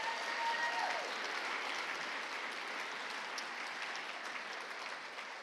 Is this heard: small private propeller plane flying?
no